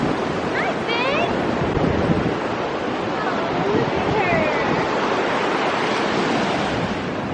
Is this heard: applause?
no